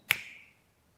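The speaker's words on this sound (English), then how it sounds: "How fast is a finger snap?" A single crisp finger snap sounds close and clear, with a brief ringing tail that fades within half a second into silence.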